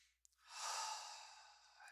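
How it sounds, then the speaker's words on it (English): A single slow, deep breath is taken during a guided meditation, a soft airy inhale swelling and fading over about a second, close and quiet, with a faint click at the start. "Take a nice deep breath."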